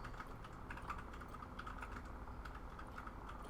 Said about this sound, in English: Husband has mechanical keyboard, so you will hear him clacking in the background at times.